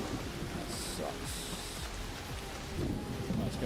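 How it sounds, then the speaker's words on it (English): An electromagnetic storm in the ARC Raiders video game brings steady rain hiss with low thunder rumbling underneath, fairly distant and moderate in level, with muffled speech-like bits mixed in. "an electromagnetic storm is currently raging over Topside"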